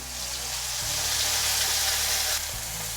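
Ground spice masala frying in hot oil over bloomed cumin for chana masala, giving a steady, close, loud sizzle that hisses on continuously with slight surges and no talking.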